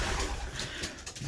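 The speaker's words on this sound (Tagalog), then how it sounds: "Ayan po sila mga kalapatids." Breeder pigeons, including cock birds, coo in low, rolling murmurs that overlap steadily throughout, close by and moderately loud with no talking.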